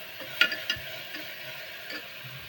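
Asafoetida tipped into onion and tomato frying in a pan for a Maharashtrian curry: a steady, soft sizzle with a few quick scraping clicks of stirring near the start.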